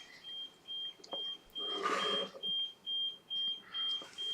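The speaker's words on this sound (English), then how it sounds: "you hear the alarm from the neighbors going to bed" A neighbor's alarm beeps at midnight, a thin, steady electronic tone repeating about twice a second, somewhat distant, with a brief burst of louder household noise partway through.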